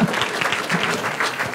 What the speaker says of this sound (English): a round of applause for our shorebird